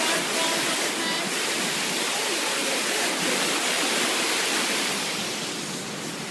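A waterfall near a raging river in Alaska makes a loud, steady rushing roar that never breaks, with no voices over it.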